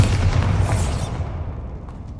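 A Bombarda blasting spell explosion in Hogwarts Legacy gives a loud, close boom with a rushing whoosh, then decays into a lingering low rumble and faint debris ticks.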